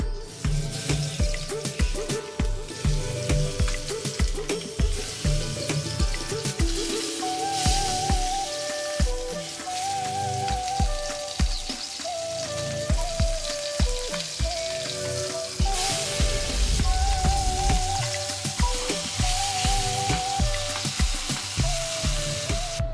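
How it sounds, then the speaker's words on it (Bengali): Fish frying in strong, hot mustard oil in a wok, a steady loud sizzle with crackling pops and occasional stirring clinks running throughout, with background music over it. "এখন মাছগুলোকে ভেজে নিতে হবে সরিষার তেলে"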